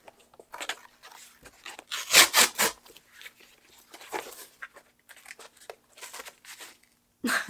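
A book package is cut and torn open in a series of crisp crinkling, ripping bursts of varying loudness, close to the microphone, separated by short quiet gaps.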